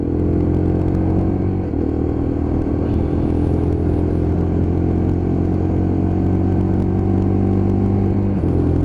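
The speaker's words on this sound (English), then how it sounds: "Bike running absolutely perfectly" An LXR Euro 5 motorcycle engine runs steadily during a test ride, a loud, continuous low drone with a slight dip in revs partway, close up with no voices.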